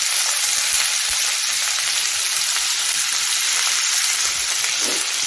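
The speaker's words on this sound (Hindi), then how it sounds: "इसे हमें खुले में लगभग 2 से 3 मिनट भूनना है" Cauliflower fries uncovered in a pan for malai gobi, producing a loud, steady, close-up sizzle that hisses on without a break.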